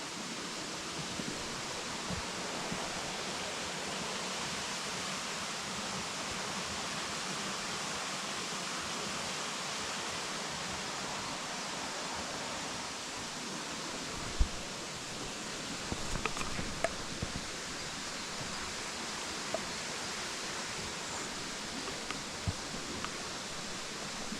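Routin Linn waterfall pours in a steady, broad rush of falling water, constant and moderately distant, with occasional faint rustles and small knocks nearby.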